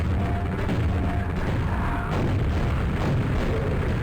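Rocket launcher explosions and combat in the classic shooter Quake, with heavy booming blasts and rumbling impacts filling the whole stretch, loud and close with little pause.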